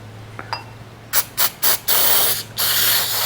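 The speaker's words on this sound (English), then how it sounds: "We'll just spray in there." Aerosol cleaner is sprayed into an engine carburetor during cleaning: after a few faint clicks come four short hissing bursts, then two longer sustained sprays, loud and close.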